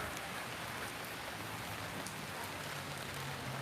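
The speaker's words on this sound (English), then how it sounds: "Wow, the rain is pretty severe right now." Heavy rain falls steadily and densely as a continuous even hiss of drops on surfaces, heard from shelter inside a small shack, with no voices.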